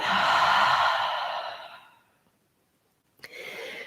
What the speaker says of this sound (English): And then exhale out through the mouth.